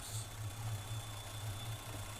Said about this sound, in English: You can hear the engine starting to go up.